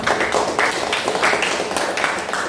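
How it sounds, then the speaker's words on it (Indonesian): A seventh-grade mathematics class claps together in a steady, rhythmic pattern of repeated bursts, loud and close, continuing evenly for a couple of seconds. "tepuk tangan untuk kita semua"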